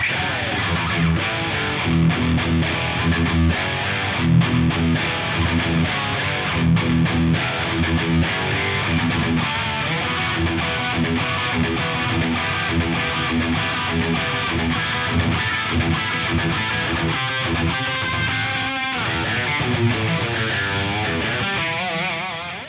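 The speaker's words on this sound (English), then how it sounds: "I can start playing my guitar and having a good time" An electric guitar played through a Fractal FM3 with a reverb effect plays continuously with a thick, washed-out reverb tail. Notes and chords blur together at a steady, fairly loud level throughout.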